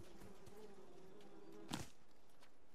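Bees buzz faintly in the video game Die With Glory, a steady low drone running throughout, broken once by a brief sharp click.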